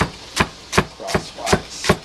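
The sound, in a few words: knife cutting rolled kohlrabi greens lengthwise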